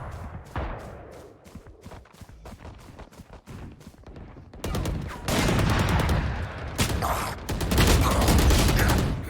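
Rapid automatic gunfire from the shooter game VALORANT, loud and close, starts as quick separate bursts and then turns into dense continuous volleys, with heavier overlapping fire toward the end.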